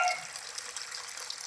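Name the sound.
water flowing from a natural spring on a farm lot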